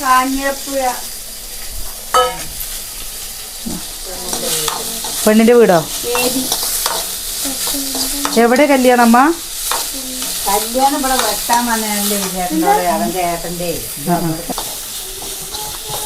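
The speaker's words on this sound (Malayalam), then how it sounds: "ഉള്ളിയും പച്ചമുളകും കൂടി ഇട്ട് കൊടുക്കുന്നു" Onion and green chillies fry in a pan with a steady hiss and sizzle and occasional stirring, while people talk over it almost throughout.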